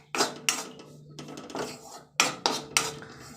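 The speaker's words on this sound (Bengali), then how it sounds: "চলো এটাকে একটু ভেজে নিই, সুন্দর করে নাড়াচাড়া করে নিই।" A metal utensil clanks and scrapes against a pan on low flame as its contents are stirred, several distinct sharp knocks in uneven bursts close to the listener, with no talking.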